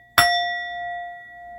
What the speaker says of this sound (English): let's ring the bell on that.